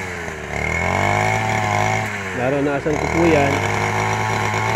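Two-stroke grass cutter engine droning steadily through a string bean field, its pitch rising and wavering as the throttle shifts, with people talking close by over it.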